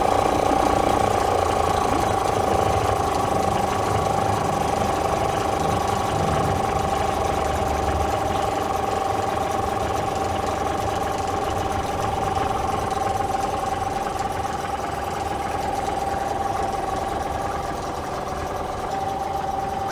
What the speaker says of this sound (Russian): Мотор работает хорошо. Можно чуть-чуть уменьшить холостые обороты.